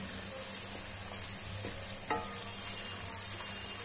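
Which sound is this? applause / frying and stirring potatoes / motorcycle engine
frying and stirring potatoes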